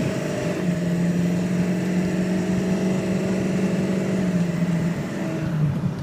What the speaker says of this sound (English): Very smooth running truck.